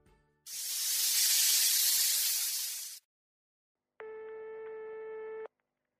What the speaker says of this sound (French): Le vieil homme emprunte le téléphone du marchand et appelle ses compagnons l'un après l'autre.